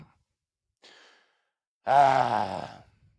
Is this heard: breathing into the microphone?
yes